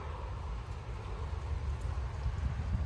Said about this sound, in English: the rain and the wind's starting to pick up again